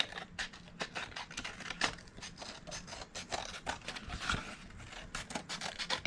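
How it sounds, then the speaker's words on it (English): Scissors snip and scrape around paper while a round paper gift bag is being trimmed, a quick run of soft crisp cuts and rustles, close and fairly quiet. "now I'm just going to use my scissors"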